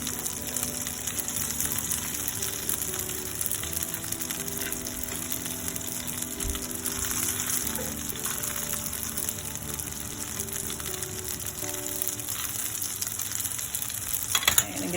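Gnocchi browning in a hot frying pan, a continuous close-up sizzle and crackle of oil throughout, with no voices.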